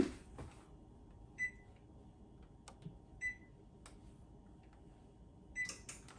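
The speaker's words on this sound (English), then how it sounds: "Let me set the oven." Oven controls being set in a home kitchen, giving a few short, faint electronic beeps spaced a second or two apart, with soft handling clicks between them in a quiet room.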